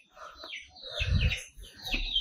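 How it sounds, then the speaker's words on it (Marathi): Small birds chirp outdoors on a sunny morning, a few bright, quick tweets spread over moments, moderately close, with a brief low thump partway through. "आणि आमची चिवचिवड बघा इकडं।"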